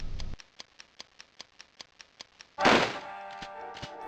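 Mines dropped one after another in the Army Men video game, a steady series of soft, evenly spaced thunks, followed by a louder burst and ringing tail near the end.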